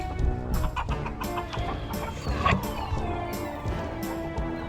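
A new flock of chickens clucks and calls close by in overlapping, irregular bursts, with a few louder squawks scattered through.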